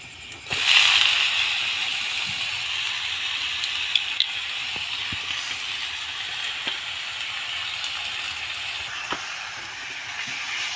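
Cassava leaves and vegetables sautéing in a pan, a loud sizzle bursting up as food hits the hot oil and then settling into a steady frying hiss with occasional light clicks of stirring.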